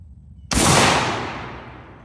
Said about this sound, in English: Let's go and shoot here at 20 yards and see what happens.